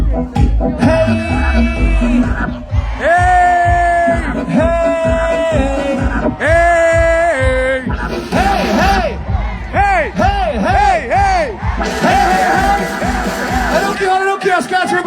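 A Christmas market crowd shouting back "Hej" in loud collective bursts amid a live band's amplified music and singing, with a man leading the call over the noise.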